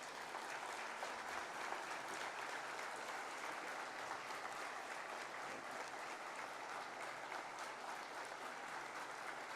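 Graduating students at an IIM Kozhikode convocation stand and applaud their parents, a steady, dense wash of many hands clapping that fills the hall continuously and evenly from start to finish.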